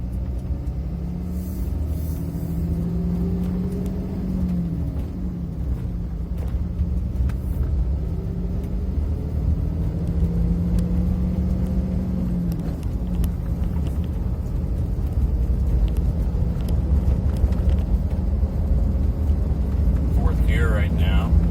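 Vehicle with a G56 manual transmission driving and shifting up toward sixth gear, a deep engine rumble whose pitch climbs, drops at each shift and climbs again, with a voice talking over it.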